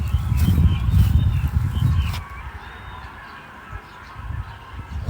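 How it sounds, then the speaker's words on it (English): Ducks honk repeatedly outdoors near Kaiping Diaolou, a loud burst of overlapping calls for about two seconds, then fading into quieter ambient noise with a few scattered calls. "Y'all hear the ducks?"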